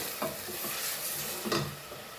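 Onions and tomatoes sautéing in a pan for a Goan green beef curry make a close, steady sizzle, with a couple of brief stirring scrapes.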